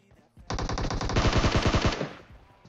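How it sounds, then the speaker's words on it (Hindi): Automatic gunfire in PUBG Mobile: a rapid burst of loud shots fired in a steady rattling rhythm for about a second and a half, then cut off, with no talking over it. "भाई कूदते हुए बिल्कुल हवा से फायरिंग देते हैं।"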